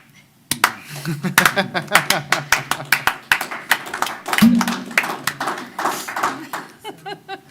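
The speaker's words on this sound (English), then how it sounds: "Is this where we do the slow clap?" Clapping during a planning commission meeting: loud, evenly spaced claps in a steady slow rhythm, picking up a little, with people talking over and between them.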